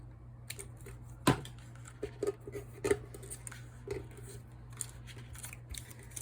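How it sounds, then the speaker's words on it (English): Scissors snip through card in a few sharp, close cuts with quiet pauses between, over a low steady hum. "So I'm going to trim this down with my scissors."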